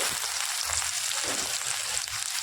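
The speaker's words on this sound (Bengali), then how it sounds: "তেলের ভেতরে ফোড়নের জন্য দিয়ে দিচ্ছি গোটা জিরে" Whole cumin seeds sizzling in hot oil for tempering, a dense bright crackle with a steady hiss, close and loud, no speech.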